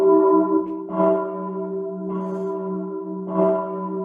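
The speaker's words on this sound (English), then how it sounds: "Church bells." Church bells ring with sustained tonal strikes, several overlapping peals sounding at roughly one-second intervals and lingering between hits, clear and fairly close.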